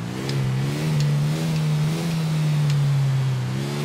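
A motorcycle engine in Grand Theft Auto IV revs steadily and loudly for several seconds, its pitch holding nearly level with slight rises, with no talk over it.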